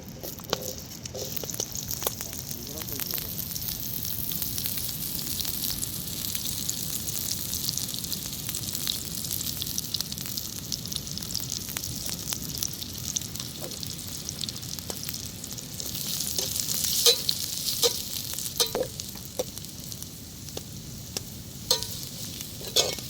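Small shallots and big onions sautéing in oil in a pan for crab masala, a continuous soft sizzle with occasional stirring scrapes and clicks, no speech.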